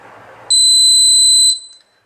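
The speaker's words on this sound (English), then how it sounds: "That beep confirms that the device is now on and in discovery mode." A loud, steady electronic beep from a CipherLab 1861 or 1862 handheld UHF RFID reader powering on, a pure two-tone note holding for about a second after a brief burst of noise, then cutting off.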